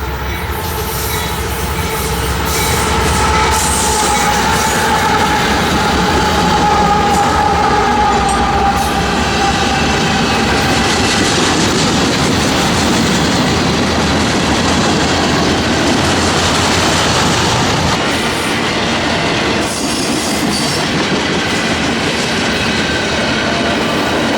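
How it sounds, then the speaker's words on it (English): A Union Pacific military transport train rolls past during a snowstorm in January, its steady loud rumble and clattering wheels filling the whole stretch, with a faint squeal of wheels and a distant horn-like tone early on. "Several of these military transport trains took the OKT south in January of 2019."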